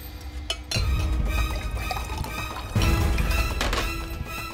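Water pours steadily into a vessel during an indoor drama scene, a continuous close splashing stream with a brief drip or knock just before it begins.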